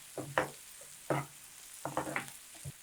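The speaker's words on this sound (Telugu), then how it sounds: "ఒక గిన్నెలోకి పెట్టుకొని ఇలా ఉల్లిపాయలు వేగనిచ్చేయాలి" Onions frying in a pan with a pinch of turmeric added, a soft sizzle under several short stirring scrapes and clicks, close and fairly quiet, without speech.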